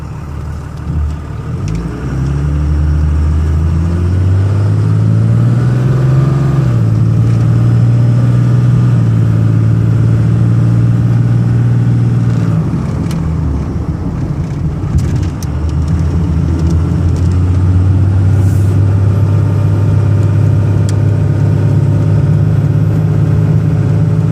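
A 1999 Dodge Ram 2500 truck engine revs and accelerates steadily onto a highway, its rising drone loud and continuous, shifting through gears with no talk over it.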